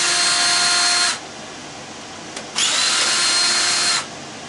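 Power drill backing 1/4 inch bolts out of a hot tub pump motor: two loud, near bursts of high whine, each about a second or more long, separated by a quieter gap with a brief click.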